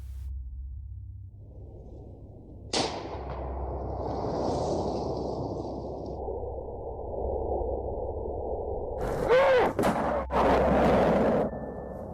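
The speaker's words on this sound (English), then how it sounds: "He fires a shot at the creature" A rifle fires a single loud shot outdoors at night. A sharp crack is followed by a long rumbling tail, and later come a few more abrupt knocks and bursts of noise.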